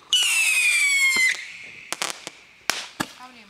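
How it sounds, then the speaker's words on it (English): Roman candle fireworks at a July 4 gathering: a long bright whistling, crackling burst for about a second, followed by several sharp separate pops and bangs, close and loud, with no talking. "he's using little Roman candles"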